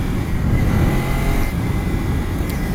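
A Kawasaki Ninja 300 motorcycle engine drones loud and close, revving with a rough, throbbing rumble that holds steady through the stretch.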